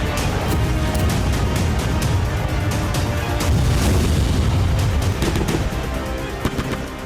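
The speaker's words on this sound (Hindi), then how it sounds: "कुर्स्क में आगे बढ़ने की कोशिश में जुटी यूक्रेनी सेना पर रूस की ड्रोन ब्रिगेड विस्फोट कर रही है।" Explosions from Russian drone strikes on Ukrainian troops near Kursk, heavy booms and bursts of gunfire layered into a loud, continuous rumbling din of combat with sharp cracks scattered throughout.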